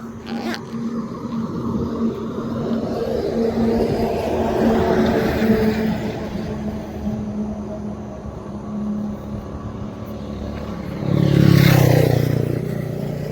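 Vehicles speed along a highway in rough, nonstop traffic, a steady roar of road noise with one louder vehicle rushing close by near the end.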